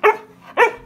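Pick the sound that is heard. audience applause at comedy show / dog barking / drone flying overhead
dog barking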